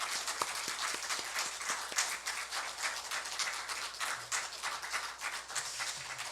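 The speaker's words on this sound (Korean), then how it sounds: "우리 축복의 박수를 함께 했으면 좋겠습니다" A church congregation claps together in blessing during a Sunday afternoon worship service, a dense, steady patter of many hands filling the room for several seconds with no voices over it.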